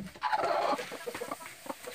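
A hen in a homemade nesting box for brooding eggs gives a burst of close, loud clucking, then a string of softer, irregular clucks trailing off.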